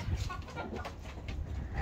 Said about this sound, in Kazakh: Сіздердің де үйлеріңізде осындай тауық пен қозы бірге жүре ма?